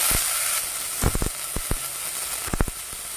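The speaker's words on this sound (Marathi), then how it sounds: "आणि 1 मिनिटभर तडक्यामध्ये ह्या परतून घ्यायच्या।" Radish pods, washed and tossed into a hot tadka of turmeric and asafoetida, sizzle steadily with a broad hiss, broken by a few sharp crackles and spatula scrapes near the pan.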